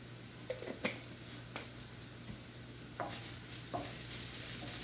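Prawns coated in fish fry masala and garam masala roast in a pan, with a soft continuous sizzle broken by several sharp scraping stirs of a spoon against the pan, no talking.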